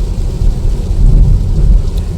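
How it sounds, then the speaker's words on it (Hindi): Heavy rain pours during a road trip toward Jabalpur, India, with a deep, loud rumble of thunder rolling beneath the dense hiss of falling water. "बारिश वापस से तेज हो रही है यहाँ पे।"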